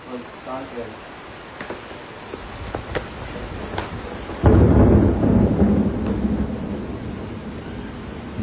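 Loud thunder crashes during a thunderstorm, breaking in with a heavy low rumble about halfway through and rolling on after fainter distant rumbles, under steady rain-like noise.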